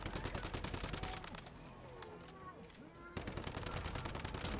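Rapid, dense bursts of Gatling gun fire in the video game Once Human, loud and continuous, with a brief lull in the middle before the firing resumes at full intensity; no talk.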